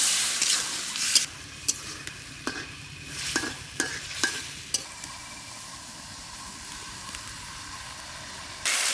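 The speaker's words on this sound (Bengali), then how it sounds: "মশলা তো কষে উঠছে" Spice paste of coriander, turmeric, chili and salt fries for a village-style duck curry, a low sizzle punctuated by sharp scraping stirs against the pot, close and without talk.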